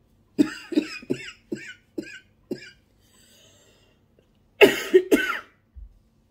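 A person coughs in a rapid series of six short barks, pauses, then lets out a few harsher, louder coughs close to the microphone.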